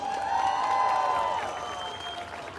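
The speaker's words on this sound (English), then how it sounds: "Give her a round of applause." A crowd applauds a speaker at an immigrant rally in Auckland, moderate clapping with a brief cheer rising at the start, then fading gradually over a few seconds.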